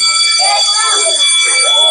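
Children at a Quran study house imitate a school bell, their voices forming a loud, sustained buzzing ring that lasts about two seconds.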